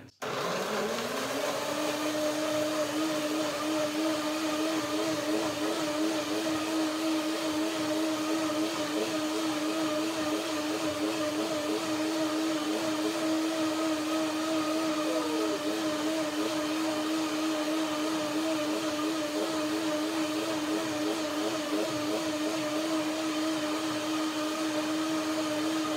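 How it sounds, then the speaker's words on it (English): Blender whirring as it blends flax seeds with pear and persimmon for a pudding, a loud, steady motor drone that spins up at the start and holds for nearly half a minute, no talking. "Blender dance."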